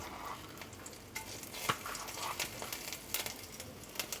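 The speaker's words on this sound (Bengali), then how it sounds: "হাফ চামচ পরিমাণ 5 ফোড়ন আমি দিয়েছি, আর এটা হালকা একটু ভেজে নেব" Five-spice seeds with a bay leaf and two dried chillies fry in a generous amount of hot oil, giving a steady close sizzle with scattered sharper crackles and a few stirring scrapes throughout.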